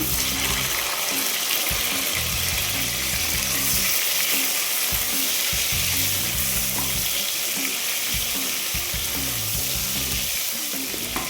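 Onion and tomato frying in a pan, a dense continuous sizzle close up with repeated scraping strokes as the mixture is stirred back and forth.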